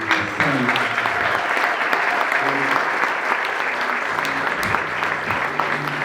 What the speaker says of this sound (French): je vais vous demander un tonnerre d'applaudissements pour quelqu'un qui ira très très loin